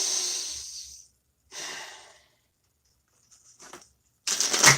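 Slow, deep breaths taken alone and close by, a long airy exhale followed by a shorter one, then a few faint stirrings and a final sharp breathy rush.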